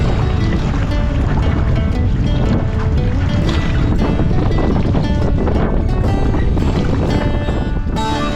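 Strong wind gusting across Loch Awe in Scotland, a loud, continuous broadband roar buffeting the microphone with choppy water sounds beneath, steady throughout with no voices.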